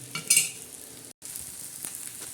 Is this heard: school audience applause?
no